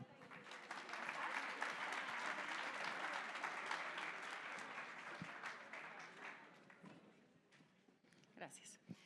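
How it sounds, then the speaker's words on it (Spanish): An audience at a Colombian health policy forum applauds the moderator from Caracol Radio, a dense wash of clapping that swells early, then gradually thins and fades, with a few scattered claps and voices at the end. "Un aplauso, por favor."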